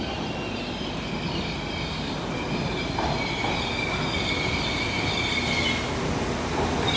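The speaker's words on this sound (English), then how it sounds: "the delayed 1318 Northern train service from Nottingham to Leeds" A delayed Northern passenger train at Sheffield station rumbles steadily with a squeal of wheels on rail, the noise rising through the middle of the clip, with no talking.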